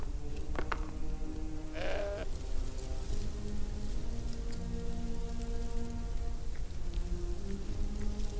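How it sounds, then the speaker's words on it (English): A goat in the video game Deponia Doomsday lets out a single short bleat over a constant hiss of rain-like background ambience. "That's not a training bag. That's a goat."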